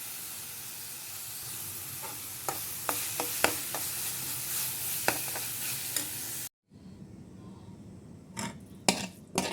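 Masala for stuffed karela roasts in a kadai under a steady sizzling hiss, with a spoon clattering against the pan in scattered scrapes and knocks; the sound cuts out briefly, then quieter stirring taps resume.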